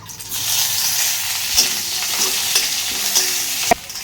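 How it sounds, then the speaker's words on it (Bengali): Chopped onions fry in hot oil with dried red chillies and cumin, giving a steady, close sizzle broken by a few sharp clinks of a stirring spoon against the pan. "পেঁয়াজটা লাল করে ভেজে নেব।"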